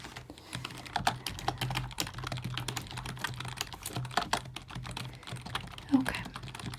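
Typing on a computer keyboard during a chiropractor exam, a close run of quick irregular key clicks with a few brief pauses and a voice faintly in the background.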